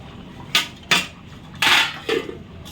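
A spoon scrapes and knocks inside a pot of taro and fish curry as it is loosened and stirred, giving four separate clattering strokes that are fairly close and moderately loud, with no voices.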